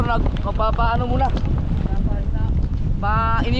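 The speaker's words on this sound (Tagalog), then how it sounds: "Ayun na, may dumating na ng mga bangka." Engines of large boats arriving rumble nearby with wind buffeting the microphone, and voices call out in Filipino over the noise.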